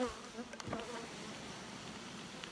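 Bees buzzing around beehive boxes, a steady, low, continuous hum of many insects heard close, with no voices.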